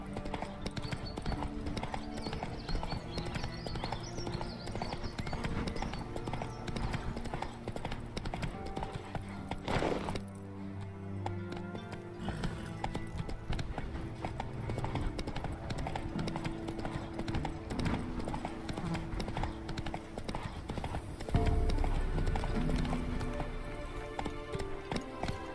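Roach the horse gallops in The Witcher 3, steady clip-clop hoofbeats running continuously and close under game music and ambience, with a brief lull near the middle and a louder burst toward the end.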